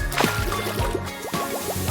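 Small splashes and drips of water in a miniature doll bath, a quick series of light plops and trickles with bubbly squishing, close and fairly quiet.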